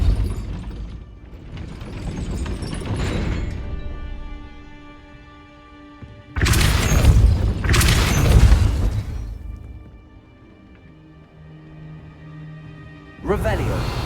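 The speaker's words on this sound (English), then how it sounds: "That looks as if it might raise the gate." A gate mechanism in Hogwarts Legacy grinds and clanks as it raises in several loud bursts of rumbling machinery with ratcheting tones, separated by quieter ringing gaps, under spoken words.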